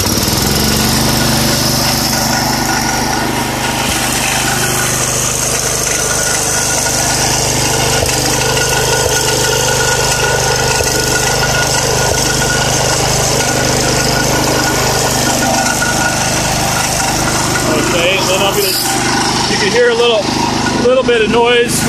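A 1970 IH Cub Cadet 127 garden tractor engine runs with a loud, steady, close mechanical drone throughout, with some rattling variation toward the end; no speech is heard over it.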